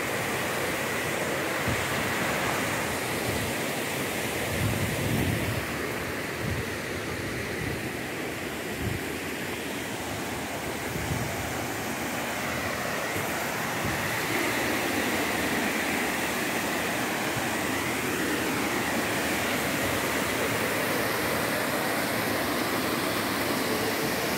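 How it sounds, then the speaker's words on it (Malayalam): Palchuram waterfall in Wayanad, Kerala, makes a steady, continuous rushing roar of falling water, fairly even in loudness and heard alone without voices. "ഇതാ ഗൈഡ്സ് പാൽസരം വാട്ടർഫാൾസ്, അതിൻ്റെ ഒച്ച കേൾക്കൂ."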